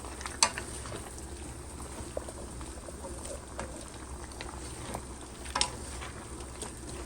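Vegetables for a vegetarian lasagna cook in a pan with a soft, steady sizzle and a few faint pops and clicks scattered throughout, low and even with no talking.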